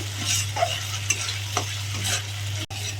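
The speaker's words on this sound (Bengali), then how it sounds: "টমেটো দিয়ে দিচ্ছি মশলা ভালো করে কষিয়ে নিচ্ছি" Spice masala with tomato sautéed in a pan for a Bengali egg curry, producing a steady soft sizzle with repeated scraping strokes of the stirring spoon over a low electrical hum, and no voices.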